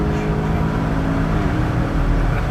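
A VW Golf 8 GTI accelerates hard, its engine note a deep, close droning roar heard from inside the car, rising steadily over a short stretch.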